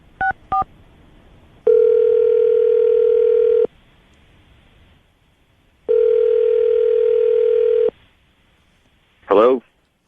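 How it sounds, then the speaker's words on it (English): Two quick keypad beeps as a phone number is dialed, then two long steady ringback tones separated by silence, ending with a short warbling burst, loud and close. "I'm going to dial the phone number right now"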